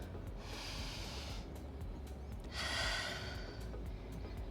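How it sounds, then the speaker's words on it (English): Slow, audible breathing during a Pilates forward-fold stretch, with a soft inhale-like rush early on and a stronger, louder breath about halfway through, close to the microphone over steady low background hum. "Take 1 breath here."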